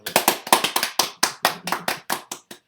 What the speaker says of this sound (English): Applaud that man.